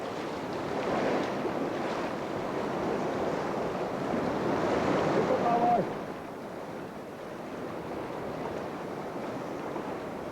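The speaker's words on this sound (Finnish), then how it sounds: "kosken pauhun yli on turha koettaa huutaa" River rapids roar in a broad, steady rushing wash of water, loud and continuous, with wind buffeting the microphone; the roar eases slightly toward the end.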